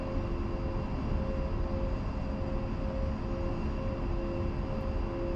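An A-10C II jet in the DCS flight simulator game taxis toward the runway, its engines giving a steady droning whine with constant tones over a broad rumble, unbroken and even in level.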